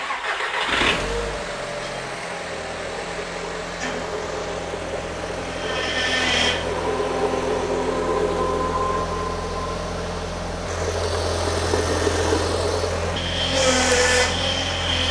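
Audi TT engine running steadily while the power steering system is bled, a continuous idle hum with several brief whining surges and mechanical clicks layered over it, no talking.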